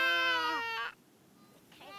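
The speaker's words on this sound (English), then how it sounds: "The lambs make this sound." A lamb on a farm bleats close by, one long wavering call that breaks off, then a quieter second bleat begins after a short near-silent pause.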